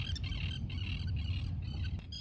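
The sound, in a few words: birds coming out of the water, squawking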